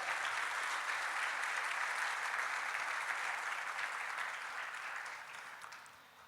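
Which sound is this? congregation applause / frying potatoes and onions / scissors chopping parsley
congregation applause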